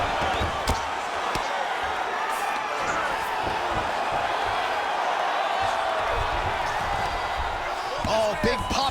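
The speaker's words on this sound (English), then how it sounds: "big pop from the crowd as they get back to their feet after a pretty scintillating grappling battle there on the ground" A UFC fight-night arena crowd giving a sustained loud roar as the fighters rise from a grappling exchange, a dense wash of cheering with occasional thuds and whoops throughout.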